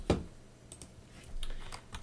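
Typing on a computer keyboard while working in a command prompt, a few sharp nearby key clicks and short bursts of keystrokes, no voices.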